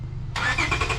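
A car fitted with an aftermarket RV6 long-tube J-pipe exhaust cranks and fires up, the engine catching abruptly after a short moment of low rumble and settling into a loud, close idle.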